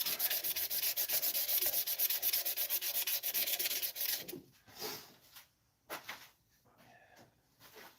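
Sandpaper of around 220 grit is rubbed over guitar wood in quick, rhythmic back-and-forth strokes, loud and close for about four seconds. A few scattered softer rubs follow.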